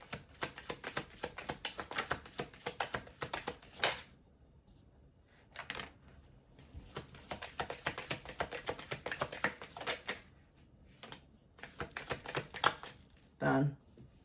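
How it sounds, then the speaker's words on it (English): A deck of tarot cards is shuffled in rapid riffling, flapping bursts, close and crisp, with brief pauses between rounds and a short thump at the end. "I'm going to give this one more shuffle"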